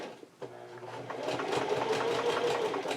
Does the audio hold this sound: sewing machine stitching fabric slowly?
yes